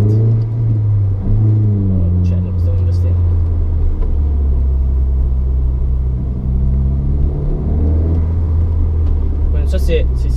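MINI Cooper S R56 with direct intake and pop-up exhaust valve, steady low engine rumble as the car drives, with a brief rev and release near the end; someone talks over it throughout.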